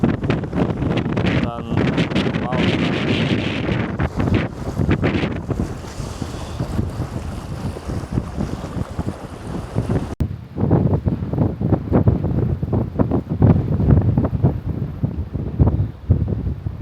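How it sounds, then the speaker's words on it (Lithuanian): Strong wind sweeps over a rough, choppy sea near Hamahiga Island in Okinawa, roaring and buffeting the microphone in loud gusts, with waves washing beneath throughout. "Labai stiprus vėjai, tikrai."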